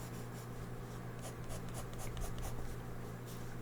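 A pencil sketching on paper gives a continuous close scratchy rubbing, with quick strokes gathering into a steady rhythm, and no one speaks.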